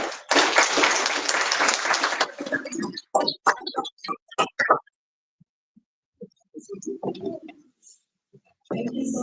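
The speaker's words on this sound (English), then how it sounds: "a round of applause again for the country" Applause from a conference audience in Cape Town, loud and dense at first, then thinning into scattered claps before fading, with a brief voice near the end.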